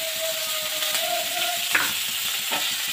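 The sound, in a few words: onions frying with garlic and green chilli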